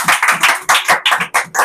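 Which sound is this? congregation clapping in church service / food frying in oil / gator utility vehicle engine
congregation clapping in church service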